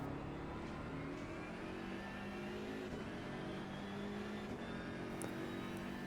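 A race car in the Assetto Corsa Competizione video game at the Paul Ricard circuit drones on at a steady engine pitch through a corner, a faint, even whine with slight shifts and no voices.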